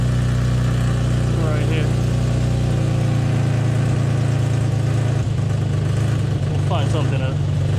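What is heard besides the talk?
Infiniti G35 engine idling with an exhaust leak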